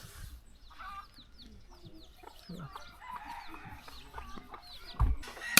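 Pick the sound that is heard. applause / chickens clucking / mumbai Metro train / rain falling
chickens clucking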